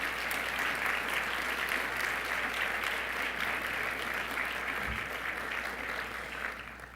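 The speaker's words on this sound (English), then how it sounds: "Can we give these folks a round of applause?" Guests at a scholarship brunch give a sustained round of applause, even room-filling clapping that holds steady and begins to taper near the end.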